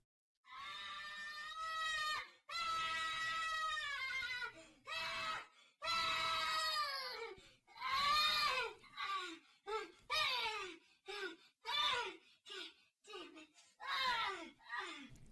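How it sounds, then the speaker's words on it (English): Loud, high-pitched screaming, goat-like and pitched up, plays from a clip in a series of long sustained wails followed by shorter, choppier bursts, with no talking over it. "If you don't know what that scream is, don't look it up."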